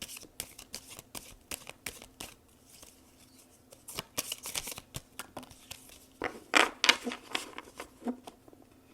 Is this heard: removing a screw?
no